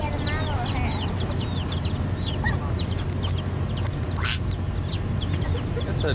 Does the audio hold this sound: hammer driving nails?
no